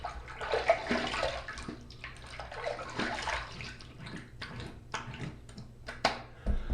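A razor rinsed under running water after a shaving pass, a quiet, uneven splashing stream with small knocks and taps, close by and without talk.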